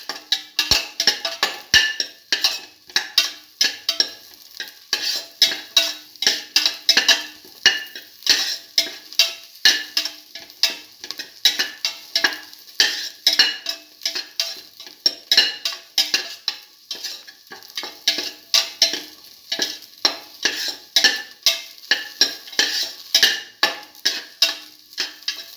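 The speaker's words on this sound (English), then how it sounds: "Mix all the ingredients together." A potato and French beans mixture is stirred in a pan, a steady rhythmic scraping of spoon against metal repeating every second or so over a soft sizzle, close and continuous.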